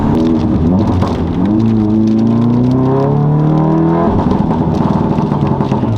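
Modified VW Golf 7 GTI Clubsport S on 255-width tyres driving hard, loud steady engine drone with rising and falling revs and a shift near the end, tyre and wind roar throughout, no voices.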